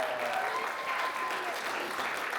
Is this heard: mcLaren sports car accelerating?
no